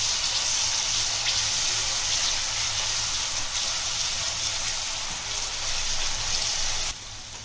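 Ginger garlic paste sizzling with onions in a hot pan, a steady, loud hiss of frying with a low background hum that goes on without a break before easing off slightly near the end.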